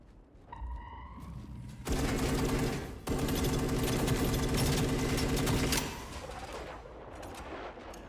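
Grenade blasts and sustained rapid gunfire in the sci-fi shooter EVE Vanguard, a loud dense barrage after a brief lead-in, easing off near the end.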